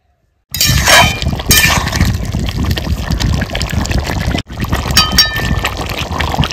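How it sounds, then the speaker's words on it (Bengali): Water is tipped into a pot of mutton curry with potatoes, splashing and gurgling loudly and steadily, with a clink of metal and a brief pause partway through. "এবার দিয়ে দেবো জল।"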